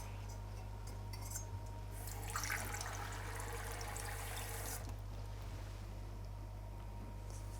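Half a litre of water pours into a pot holding potatoes and peas in a home kitchen, a soft rushing wash that swells midway and then fades, over a steady low electrical hum.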